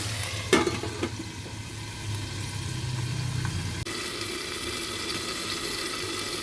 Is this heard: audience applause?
no